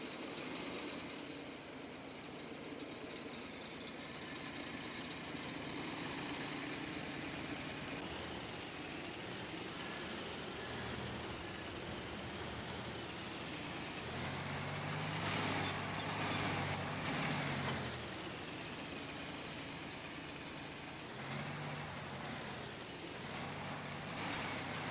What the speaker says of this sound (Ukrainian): Нашим Т-150 спершу треба завестися.